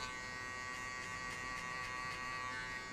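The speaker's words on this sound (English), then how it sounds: "I will open the clipper halfway and I'll hit only on this line" An electric hair clipper cutting a mid taper fade gives a close, steady buzzing drone for the full three seconds, with faint pulsing as the blade moves through the hair.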